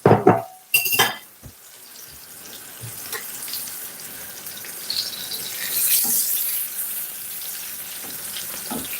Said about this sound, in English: I'm just rinsing off my whisk.